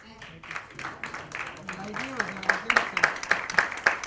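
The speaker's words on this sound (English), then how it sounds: "a big round of applause to all of them" Audience applause at a dance research congress in Mumbai. Scattered claps start faint under a speaking voice, then build into louder, denser clapping near the end.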